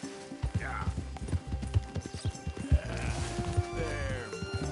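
A horse trotting in the Red Dead Redemption 2 video game, a steady run of close hoof clip-clops with a brief whinny and a low voice urging the horse on.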